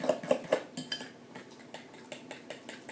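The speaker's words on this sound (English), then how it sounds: "give that a little whisk up again" A whisk clinks against a mixing bowl while wet ingredients for chocolate banana bread are beaten together with vanilla. Quick, close metallic taps and scrapes repeat in a steady rhythm, with no voice heard.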